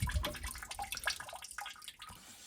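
Water from a hand-pumped tap at an off-grid home in remote Alaska splashes and trickles into a basin in uneven bursts, fairly faint and close, with no talking.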